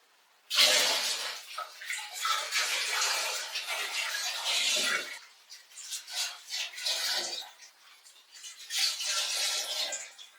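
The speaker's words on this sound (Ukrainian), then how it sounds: "І заливаю наш спиртсерць." Raw spirit is poured into purified water in a still vessel, a splashing, trickling pour in several bursts with brief pauses between them, close and moderately loud.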